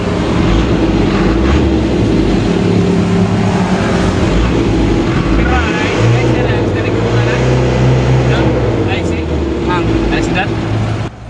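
An Isuzu 4HL-1 diesel engine with a low-power, misfiring fault runs loud and close, then revs up to a rising, sustained drone before settling back down.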